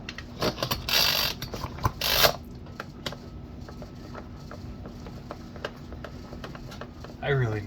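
A hand ratchet works the long starter cover screws loose on a Homelite 240 chainsaw, giving a run of quick, close clicking bursts followed by sparse taps and rattles, with a person speaking briefly at the end.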